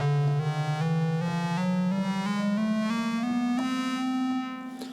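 A buzzy modular synth tone from a Tides oscillator through a Doepfer A-156 quantizer steps upward in discrete pitch jumps, each note held briefly with a clear click at every change, sustained and fairly loud.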